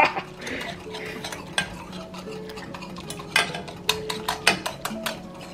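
A whisk stirs sugar-free hot chocolate in a pot, giving rapid scraping and clinking against the metal with sharper taps toward the end, close and fairly quiet with no talking.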